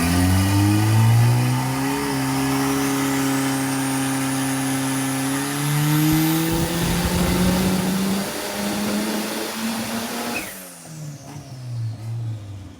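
The 1.6-litre methanol engine of a Holden Gemini G161 with a truck exhaust revs hard nearby, its pitch climbing and falling through several sustained runs before cutting back to a rough, lumpy idle.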